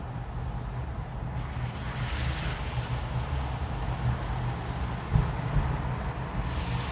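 A storm-swollen, murky river after a storm in Gatlinburg gives a steady, dense rushing roar that holds evenly throughout, with no voices over it.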